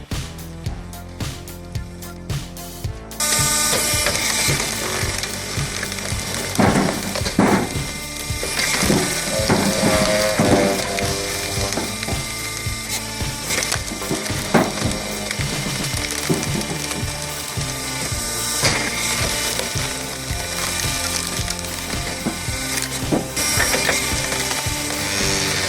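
A hydraulic firewood processor with a dual pump and electric valve splitting large logs, giving a continuous loud mechanical clatter with ratcheting knocks and cracking wood, close and unbroken.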